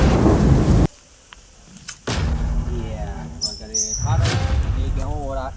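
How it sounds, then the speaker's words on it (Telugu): A loud, close thunder rumble for about a second, then sudden near-quiet, followed by steady rain pouring down. Voices talk over the rain in the later part. "అవునరా వాన పడేటట్టుండే"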